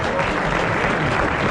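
A studio audience at a 1990 French television show applauds, a dense, even wash of clapping from many hands, loud and sustained across the whole moment.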